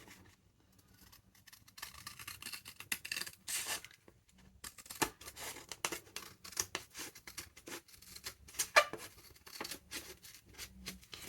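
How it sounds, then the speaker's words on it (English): Scissors snip and cut through paper in bursts of short crisp strokes, with some rustling and tearing between cuts, close by and fairly quiet. "I wish I had brought along my sharp scissors"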